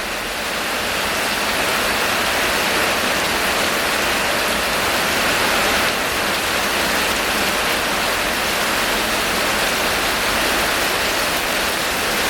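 Heavy rain pouring down outdoors near a garden shed, a dense, unbroken roaring hiss at constant loudness with no voices.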